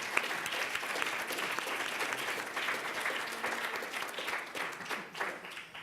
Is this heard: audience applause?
yes